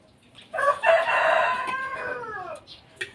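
A rooster crows once, a loud drawn-out cock-a-doodle-doo close by, trailing off with a short cluck at the end.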